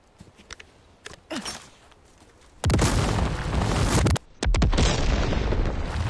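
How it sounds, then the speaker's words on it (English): A heavy grenade explodes in midair in Resident Evil 4 Remake. A deep, loud, sustained boom and rumble follows a few lighter gunshot-like thuds, breaks off briefly, then rolls on. "get a nice air explosion, why don't we?"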